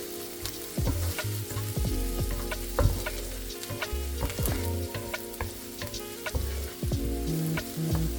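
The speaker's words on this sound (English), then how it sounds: "so fresh garlic, diced garlic. This is about 5 to 6 cloves of garlic. Cook for about 2 to 3 minutes." Five or six cloves of freshly diced garlic fry in a pan, a loud continuous sizzle dotted with crisp pops and frequent clinks and scrapes of a utensil stirring, up close with no talking.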